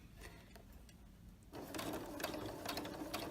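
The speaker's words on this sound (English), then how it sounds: "Now you need to be moving your fabric a little bit this way as you sew." A sewing machine runs a quilt block seam through fabric, a quiet rapid mechanical whir of stitching that starts about halfway through and continues steadily, close by with no talking.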